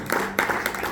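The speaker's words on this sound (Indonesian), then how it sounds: "Yang diberkati berikan tepuk tangan paling dahsyat buat Tuhan Yesus, saudara" Church congregation applauding in praise during a worship service, a dense wash of clapping hands that surges again after a brief dip, steady and fairly close throughout the second.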